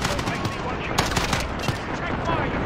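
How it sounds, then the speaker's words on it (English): Rapid gunfire in a Call of Duty Modern Warfare gunfight on the Piccadilly map, with bursts of sharp automatic shots and scattered single cracks, close and loud, over background game noise. "It's a good gunfight."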